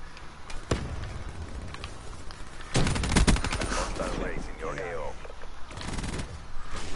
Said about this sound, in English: I see my sentry gun gonna kill already